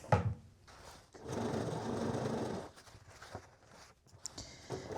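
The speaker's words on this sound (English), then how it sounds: "I'm sewing all the way till I'm 1/8 of an inch away from this seam line" A sewing machine stitches a skirt seam in one sustained run of rapid, steady mechanical chatter, framed by brief handling noises before and after, heard up close.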